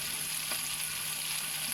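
Seasoned pork chops sizzle steadily in a hot pan, a constant close hiss of frying with no voices.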